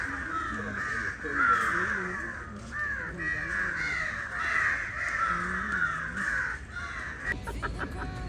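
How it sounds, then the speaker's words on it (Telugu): Many crows caw loudly and continuously outdoors at a spot with deer and a peacock, harsh overlapping calls filling the whole stretch, with faint voices near the end. "కాకులు అయితే పిచ్చగా అరుస్తున్నాయి."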